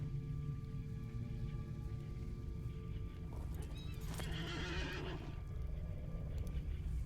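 A horse in the video game Lotro (Lord of the Rings Online) gives one loud, clear neigh in the middle, over a steady background of hooves clip-clopping at close range.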